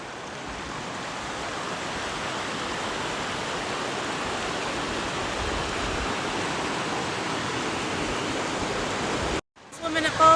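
A waterfall at a camping spot on the Appalachian Trail rushes in a steady, broad wash of noise that holds constant and close, then cuts off abruptly near the end.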